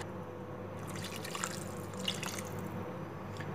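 Water poured into a pot of Udupi temple-style sambar with salt added, a steady close trickle and splash with a few brighter drips, running throughout.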